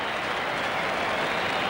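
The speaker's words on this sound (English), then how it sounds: "The crowd are delirious about that." A cricket crowd roars and applauds after captain Greg Chappell's catch in a 1980–81 World Series Cup match between Australia and New Zealand, a dense steady wash of cheering from a large stadium audience.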